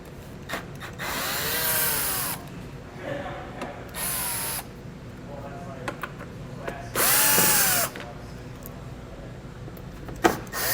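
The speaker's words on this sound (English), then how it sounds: "we're going to use a 10mm socket to remove these" A 10mm socket on a power tool backs fasteners out of a 2011 Jeep Patriot, loud whirring bursts of a few seconds each separated by quieter gaps, close and without talk.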